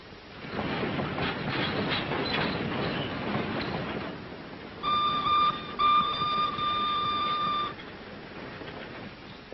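A train rumbles and clatters along the tracks at a steady pace, with a high whistle-like tone sounding midway.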